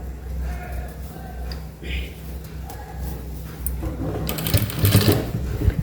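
A sewing machine runs steadily while stitching a baby cap, with a dog whimpering and yipping nearby and a person talking over it.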